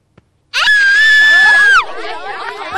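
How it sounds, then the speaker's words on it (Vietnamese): A girl in a classroom lets out a long, piercing, sustained scream close by. It ends abruptly and fades into softer crying and murmuring. "Có gì mà con la hét vậy"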